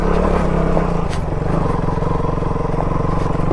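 A motorcycle ridden along a rough mountain road, its engine droning loud and close with a steady throbbing pulse, plus a few rattles and knocks from the bumpy surface.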